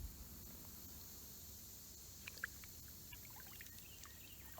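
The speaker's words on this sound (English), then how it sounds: "and the sounds of the paddle in the water" Faint, occasional kayak paddle splashes and drips in water over a steady background hiss, with no talking.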